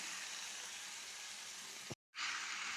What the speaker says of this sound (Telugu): కొంచెం ఫ్రై అయ్యాక వేయించి పెట్టుకున్న రొయ్యలు వేసి మసాలా అంతా కలిసేలాగా చిన్నగా తిప్పుకోవాలి